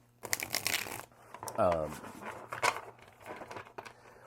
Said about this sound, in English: it really is a nice, sexy shuffle